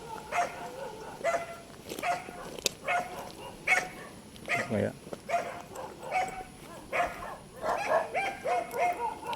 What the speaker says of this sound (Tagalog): May aso, may mga aso.